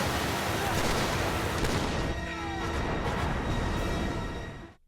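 Dense gunfire and explosions from the video game Uncharted 2: Among Thieves rumble continuously in a thick, loud wash of blasts and shots, fading out abruptly at the end.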